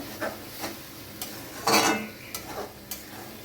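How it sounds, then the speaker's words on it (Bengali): Grated beetroot being stirred and fried with spices in a pan, with a few close, scattered spoon scrapes and taps against the pan and one longer scraping stir, over a faint low sizzle and no talk. "এটা দিয়ে আমি খুব ভালোভাবে নাড়াচাড়া করে মশলাটার সঙ্গে ভালো করে ভেজে নেব"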